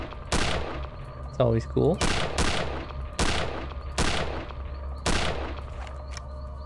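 Gunfire in the video game Return to Castle Wolfenstein: several sharp, loud shots crack at irregular intervals over steady background hum, with a brief electronic chirp and a short spoken remark between bursts.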